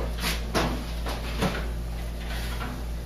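An oven door opens to take out a dish of baked eggs in an inn kitchen, giving two soft thuds of the hinged door over a steady low appliance hum.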